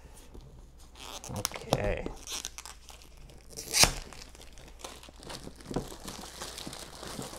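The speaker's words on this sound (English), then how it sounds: "And I'll very carefully cut the shrink off." Shrink wrap being cut and torn off a Wingspan board game box: crinkly plastic tearing and crumpling in several bursts, with one sharp rip near the middle, under a voice speaking.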